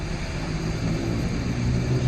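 Cars driving along a residential street near a fire, with the road closed; traffic is heard as a continuous low rumble of engines and tyres, steady and moderately distant, with no talking.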